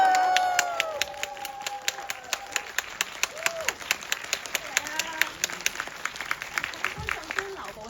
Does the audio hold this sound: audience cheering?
yes